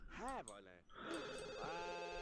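A telephone in The Sims 2 rings with warbling electronic trills, two bursts in quick succession that sound close and clear, followed by a voice talking.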